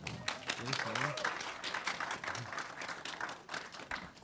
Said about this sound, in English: Ladies and gentlemen, a warm round of applause for our good friend,